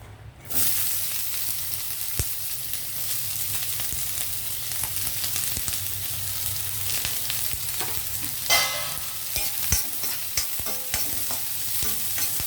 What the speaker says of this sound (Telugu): ఇప్పుడు అదే నెయ్యిలో మనము ఇంకొంచెం నెయ్యి వేసుకుందాము అయితే ముందుగా మనము ఉల్లిపాయలు వేద్దామండి